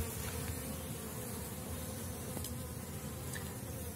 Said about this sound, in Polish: Pszczoły w sile.